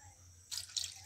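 Water poured into egg paniyaram gravy in a pan, a quiet room that gives way to a short splashing pour and a few drips, close and fairly faint.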